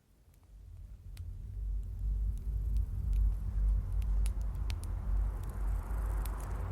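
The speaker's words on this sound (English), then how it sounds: "That hum is just the distant hum of traffic on the highway" A low, steady rumble of distant highway traffic, fairly quiet and continuous, with a few faint clicks and ticks on top.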